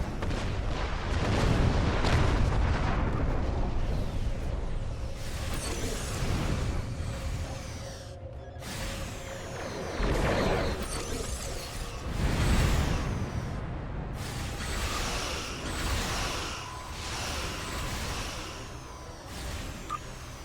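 Torpedo explosions in the space combat of the Star Trek Online video game: loud, continuous booms and blasts with sweeping whooshes, swelling and fading in heavy repeated bursts throughout, with no talk.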